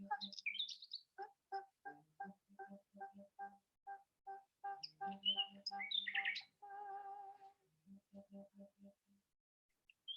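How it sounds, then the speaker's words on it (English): A male nightingale singing in a tree, with repeated rhythmic rapid note bursts, a rising whistled phrase and a sustained buzzing trill, clear and fairly close with brief pauses between phrases. "That's the sexiest sound these male nightingales make."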